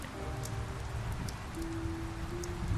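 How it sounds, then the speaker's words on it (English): Steady rainfall in The Wolf Among Us, a dense continuous hiss of drops with a faint low tone humming underneath and no voices. "Oh, now it's raining."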